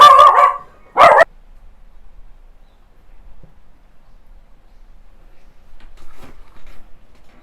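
Small indoor dog barking at home when the doorbell rings for a delivery: two sharp barks close by at the start, then near silence.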